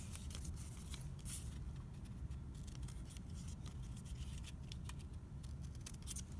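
Scissors snip through folded paper in a quiet run of repeated short cuts, faint and close against low background noise.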